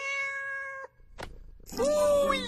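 A cat in a video game meows in a high, kittenish tone: a sustained harmonic mew, a short sharp chirp, then a longer rising cry, all close and clear.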